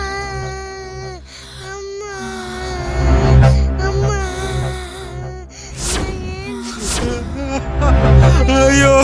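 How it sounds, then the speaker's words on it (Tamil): A baby cries loudly and insistently in wavering, pitched wails with gasping breaths between them, close up and continuous, with occasional other voices faintly mixed underneath. "என்ன குழந்தை அழுற சத்தம் கேக்குது?"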